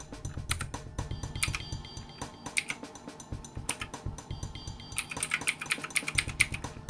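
Keys on a DREVO GRAMR 84-key backlit mechanical keyboard being pressed, giving rapid, crisp clicking bursts at close range with short pauses between runs of keystrokes.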